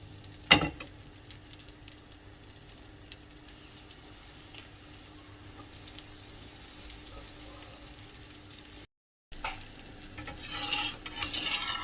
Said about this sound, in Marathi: तर आता डोसा घालून त्याच्यावर बटर घातलंय.